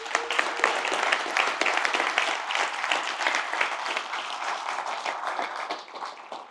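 An audience gives a round of applause at a keynote event, dense clapping across the room that stays full and lively before thinning slightly at the end.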